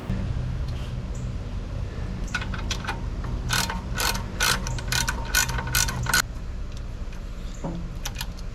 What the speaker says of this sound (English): Alright, so I'm going to go ahead and tighten all these down.